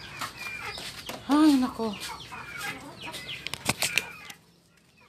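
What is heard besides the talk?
pet chickens clucking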